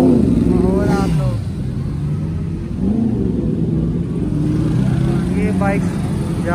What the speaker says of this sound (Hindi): बाइक जा रही हैं